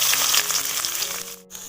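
Chili, garlic and onion sizzling in hot oil over a wood-fired stove, a loud, steady close-up crackle that briefly dips near the end.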